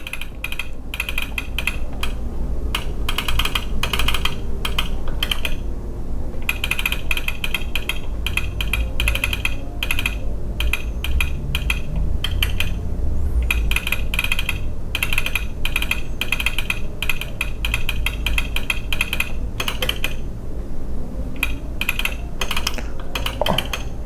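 Typing on a computer keyboard produces a rapid, steady patter of clicky keystrokes with short pauses between bursts, close and fairly loud, over a low background hum.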